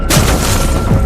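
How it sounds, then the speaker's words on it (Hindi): A heavy thud of someone jumping down, used as a horror story sound effect, strikes sharply and then leaves a loud, rumbling wash of noise that fills the rest of the moment. "ये किसी के कूदने की आवाज थी।"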